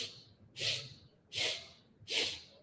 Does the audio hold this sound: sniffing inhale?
yes